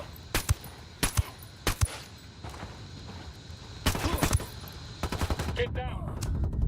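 Sharp, separate gunshots in the tactical shooter Ghost Recon Wildlands crack out in a spaced series of single rounds and short doubled bursts, fairly near, with a brief denser flurry of fire toward the end over a quiet background.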